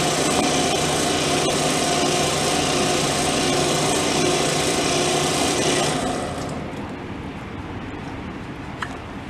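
An electric pump draws off-road diesel out of the bottom of a small tank, giving a steady, fairly loud mechanical whir that runs evenly for about six seconds, then drops to a quieter hum as the tank runs dry.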